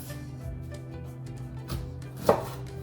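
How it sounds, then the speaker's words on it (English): A knife cuts a jalapeno in half on a cutting board in a home kitchen, giving one sharp close chop against a quiet background hum. "So slice 1 jalapeno in half."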